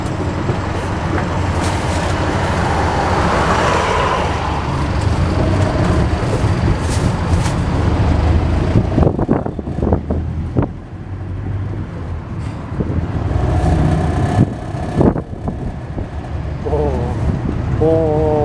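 A ten-wheel trailer truck speeding along an eight-lane road leading out of Sakon Nakhon, a loud continuous engine roar with heavy tyre and wind rush, close and sustained, with someone talking over it throughout.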